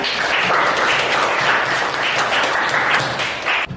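An audience at an Indonesian Catholic teacher-training class session applauds a student presenter, a steady, loud wash of many hands clapping throughout, close and continuous without talk.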